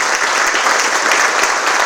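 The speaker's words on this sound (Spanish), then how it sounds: "un fuerte aplauso" Dense, steady applause from an audience at a public event, many hands clapping together at a constant, fairly loud level throughout.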